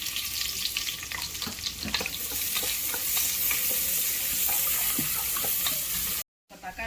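Onions sizzle and hiss in hot butter and oil in a pressure cooker while being stirred, a steady close frying crackle that cuts out briefly near the end.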